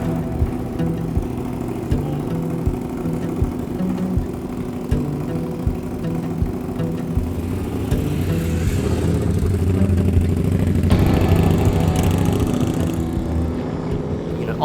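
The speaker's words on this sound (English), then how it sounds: "Always cool to watch a bike go down the road when you're on a bike as well as you get close" A custom Indian Scout motorcycle rumbles down the road, its low engine drone close and steady over clattering road and wind noise, swelling slightly as it nears.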